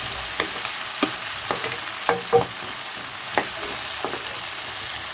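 Potato and brinjal pieces sautéing in oil for a potato-brinjal kara kuzhambu, a steady faint sizzle broken by several sharp spatula scrapes and stirs, with no voices.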